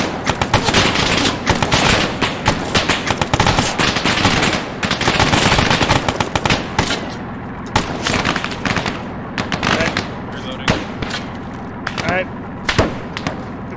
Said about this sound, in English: Lay down suppressive fire as soon as we begin moving.